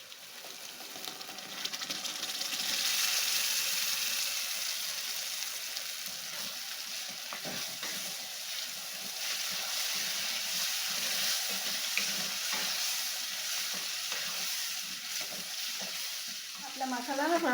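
Masala paste frying with onions and green chilli in hot oil, a close steady sizzle with stirring scrapes throughout, fairly loud, a voice breaking in briefly at the very end.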